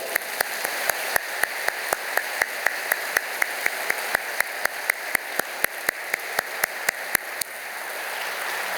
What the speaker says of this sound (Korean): 옆 사람에게 박수를 한번 좀 쳐드릴까요?